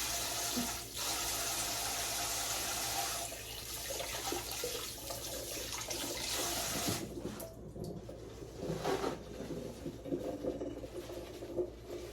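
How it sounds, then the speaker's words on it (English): Water runs steadily from a kitchen sink tap while hands are washed, a loud continuous splashing rush that eases and dips briefly near the end, with no talk. "Wash my hands again"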